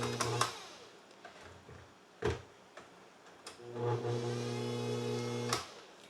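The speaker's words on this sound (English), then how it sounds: "So I'm using the Bosch Compact Kitchen Machine" A Bosch Compact Kitchen Machine mixer whirs with a steady motor hum and whine, starting and stopping in short bursts. Clicks and clunks of handling come between the runs of about two seconds.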